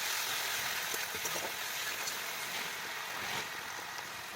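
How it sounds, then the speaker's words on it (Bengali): Ginger-garlic paste and chopped tomato frying in oil with bay leaf in a pan, a steady close sizzle with faint crackles that holds throughout, no voices heard. "ভালো করে ভেজে নেবো বাদামি কালার হওয়া অবধি"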